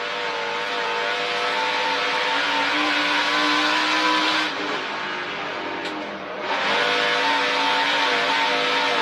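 A NASCAR Truck Series truck races around a dirt track under hard throttle, its loud, high engine howl holding steady with a brief dip mid-run before surging back to full power.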